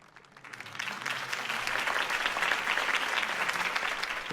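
Crowd applause after a campaign speech in the Batman Telltale video game, a dense wash of clapping that rises from quiet to a steady, sustained roar and holds throughout, without talk.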